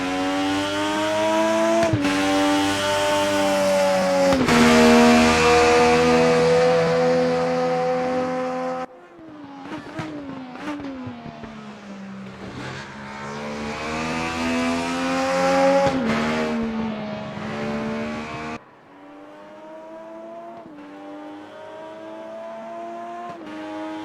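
Race car engine in RaceRoom Racing Experience at the Hockenheimring, heard from outside the car: a loud, continuous harmonic roar that rises and falls through gear changes, with sharp shift breaks and a quieter, more distant stretch near the end.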